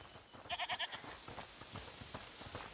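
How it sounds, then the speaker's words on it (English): A goat bleats in a video game, a quick run of four rhythmic bleats close by over a low ambient background, then quiet. "Listen, is that the goat he talked about?"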